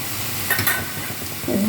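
Onion and carrot sautéing in a pan give a steady close sizzle with a few stirring scrapes, alone without talk.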